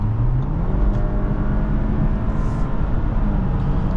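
A 2025 Audi Q7 45 TFSI accelerates on a freeway, heard from inside the cabin as a steady, loud low engine drone with a faint rising tone over road rumble, and no talking.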